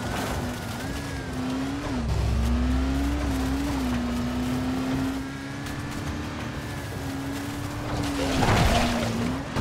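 A car driven in the video game Dying Light gives a steady engine drone that rises and falls in pitch as it speeds and slides, with brief tire skids near the end; no talking.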